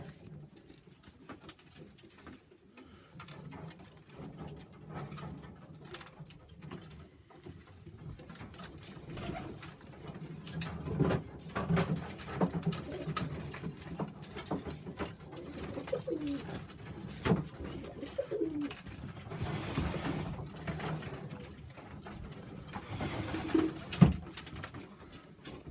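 Sheffield Tippler pigeons coo in low, rolling phrases that repeat through a long stretch, close and moderately loud, with some soft rustling and wing patter.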